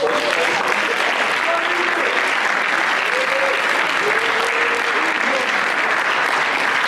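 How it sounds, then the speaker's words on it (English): A large audience at a leadership summit applauds its teachers in a loud, dense, continuous wash of clapping that holds steady throughout, with faint cheering voices mixed in. "Let's clap it up for our"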